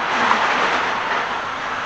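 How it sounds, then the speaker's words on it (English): Road traffic in a seaside town street, a broad steady rushing roar of a vehicle passing close by, loud and continuous over a brief moment with no talk. "We wait till this traffic goes past."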